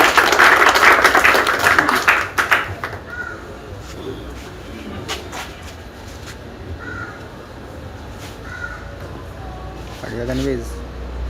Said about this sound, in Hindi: आप सब लोग इसके सम्मान में ताली बजाएंगे।